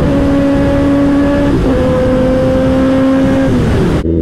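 Loud, steady engine drone of a Kawasaki ZX10R superbike with sustained tonal whine, holding a level pitch then stepping up and back down as revs change, cutting off abruptly at the end.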